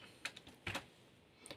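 A few scattered keystrokes on a computer keyboard while writing Arduino code for an LED dimmer circuit, quiet and close, in isolated taps with gaps between.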